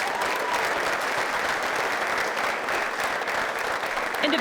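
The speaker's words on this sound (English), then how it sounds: "Let's have a round of applause for our Air Force recruits." A crowd applauding Air Force recruits at a 2023 military recognition ceremony, sustained even clapping filling the hall from start to finish with a faint voice underneath.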